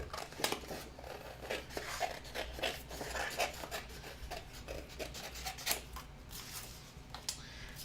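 Paper cutout being trimmed with scissors for a mixed-media wild roses piece, giving close, irregular snips and rustling paper rubs that continue steadily, with no talking.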